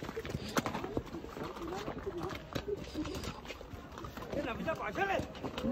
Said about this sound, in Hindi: तुम लोग देख सकते हो यहाँ पे कितना घोड़ा है